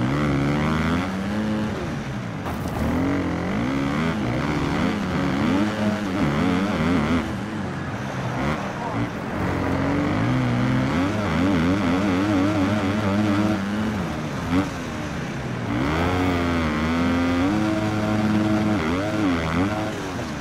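Kawasaki motocross bikes race a supercross track, several engines revving and shifting in overlapping waves, loud and continuous with rising and falling pitch as riders pass.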